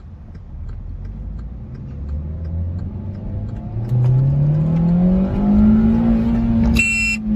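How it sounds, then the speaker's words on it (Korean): A car engine revs steadily upward as the accelerator pedal is pressed fully down during a simulated pedal-misapplication test, a loud rising whine close by that ends with the onset of a sharp electronic beep. "이 영상에서 운전자는 가속 페달을 끝까지 힘껏 누르고 있는 상황입니다."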